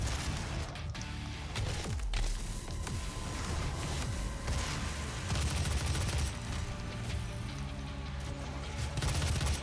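Gunfire in the DOOM 2016 video game, repeated heavy shots and blasts over a dense, loud combat backdrop, with almost no talking.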